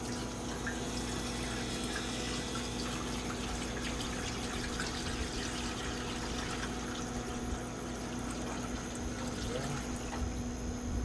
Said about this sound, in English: we're just going to go ahead and dump this water right through these grates